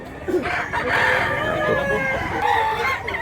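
A rooster for sale at a live poultry market in Mantalungon, Cebu crows once, fairly close, with clucking from other fowl and faint market voices in the background.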